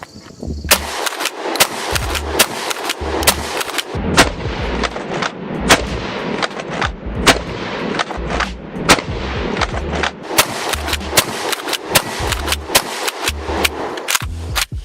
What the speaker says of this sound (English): We gotta do a full 15 round mag dump.